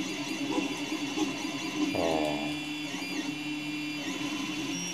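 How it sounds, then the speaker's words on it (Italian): An Anycubic i3 Mega 3D printer's power supply fan runs at minimum speed: a steady, even mechanical whir with a faint electrical whine, continuous throughout, fairly quiet and close. "questa è la rumorosità con la ventola al minimo."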